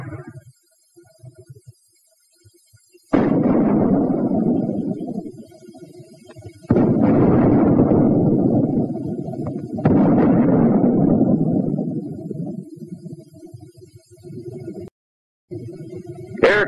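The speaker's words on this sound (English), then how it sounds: "Mortar also fires smoke shell." Mortar shells bursting in a 1943 wartime film soundtrack, heavy booming blasts with rumbling decay, several loud impacts in succession separated by brief quiet gaps, with no one talking.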